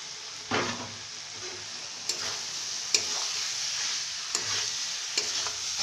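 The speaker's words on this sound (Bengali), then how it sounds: "এবার আমরা অ্যাড করে দিই সেদ্ধ করে এই ভিজিয়ে জল ঝরিয়ে রাখা সোয়াবিনের দানাগুলো" Soaked, boiled soybeans stirred into an oily frying masala, a constant bright sizzle with a few sharp knocks of a spoon against the pan at irregular intervals.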